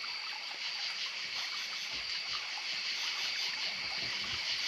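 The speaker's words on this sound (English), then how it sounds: "Yeah, pretty little stream." Peter Cave Hollow Creek, a small clear stream on the Ozark Trail in Missouri, flows in a steady, bright babble and trickle heard close up, with no voices over it.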